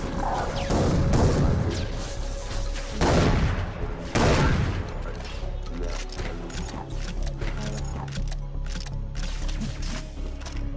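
Grenade blasts in Far Cry 3 Blood Dragon, several loud broadband bursts in succession near the start, followed by rattling gunfire and clattering game action that carries on at lower intensity.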